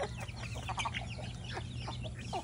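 Chickens cluck in quick, scattered bursts over a low steady hum, several birds nearby.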